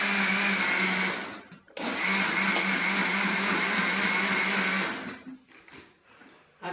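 An electric grinder whirs loudly and steadily as it grinds sliced ingredients. It cuts out briefly after about a second and a half, runs on for several more seconds, then stops.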